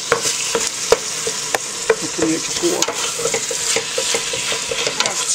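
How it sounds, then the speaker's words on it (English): Pork filling mixture for sarma cabbage rolls is stirred and fried in a pot, giving a steady sizzle with repeated scraping clicks of a utensil, while a voice speaks briefly. "I'm just going to mix it up, just to warm it up for all the time"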